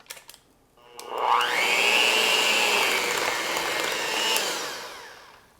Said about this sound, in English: we'll beat everything in together until nicely combined